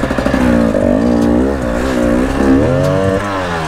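An enduro motorcycle engine revs hard on a muddy hill climb, loud and close, its pitch rising and falling in strained surges as the throttle is worked, with no voices.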